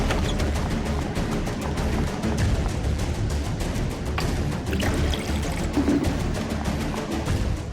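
Water pouring steadily in an indoor scene, a continuous splashing trickle heard fairly close for several seconds with no talk over it.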